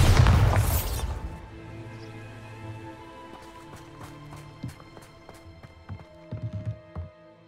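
Bombarda blasting spell in Hogwarts Legacy: a loud explosive burst at the start, then a long ringing, echoing tail with scattered crackling impacts and small thuds trailing off over several seconds.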